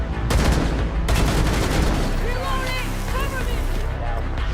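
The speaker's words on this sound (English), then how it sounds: "the 417 has unrealistically fast rounds per minute, as seen in this clip here" A 417 semi-auto marksman rifle in Rainbow Six Siege fires a fast string of loud, close shots that blur into continuous cracks, with voices briefly heard underneath.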